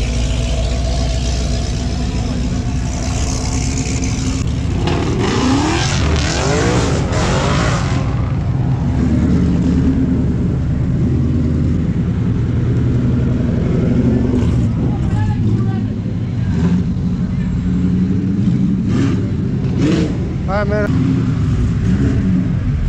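A ported 416 stroker Camaro SS with an 8-speed auto races an FBO S197 5.0 Mustang on E85. Loud engine roar builds and surges with revving passes, with road and wind noise and voices talking throughout.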